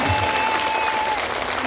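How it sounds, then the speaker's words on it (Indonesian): An audience at a large Islamic religious gathering in Taiwan claps in a steady, moderately loud burst of applause lasting a couple of seconds. "Tepuk tangan untuk kita semua."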